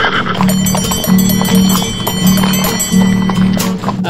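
Steady clip-clop of a horse's hooves pulling a delman horse cart, a regular trotting rhythm heard up close and loud, with music or singing and other noises layered over the hoofbeats.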